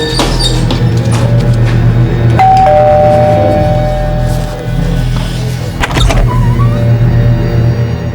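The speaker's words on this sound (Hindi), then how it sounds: "चलो इसी बहाने कम से कम प्रीति जी का घंटी बजाने के लिए मिलेगा।" A doorbell chimes loudly and close by, ringing a couple of clear tones over a constant mechanical hum and background rumble, with no voices.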